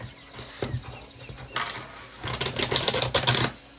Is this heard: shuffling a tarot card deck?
yes